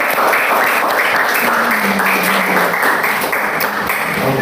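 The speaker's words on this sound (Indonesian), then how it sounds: "Give applause." A class applauds together in a classroom during an English lesson, a dense burst of clapping lasting a few seconds, fairly loud and close, with no talking over it.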